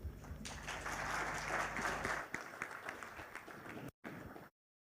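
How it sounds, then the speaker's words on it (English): An audience applauds at the MTN Uganda listing ceremony on the Uganda Securities Exchange, steady clapping over a low hum that thins out before stopping suddenly. "Another round of applause, ladies and gentlemen,"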